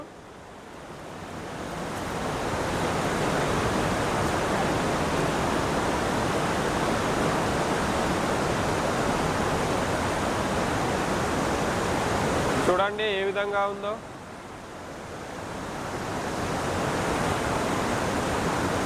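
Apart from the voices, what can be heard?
river water flowing through a cave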